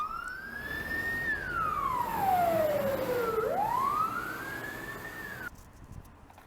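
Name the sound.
fire engine siren as firefighters respond in Sakhalin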